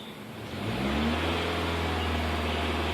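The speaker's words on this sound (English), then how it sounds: "So I'm going to raise the RPM" A Toyota Corolla engine rises from idle to a higher steady RPM, its hum climbing in pitch over the first second and then holding a constant drone, recorded close up with no talking.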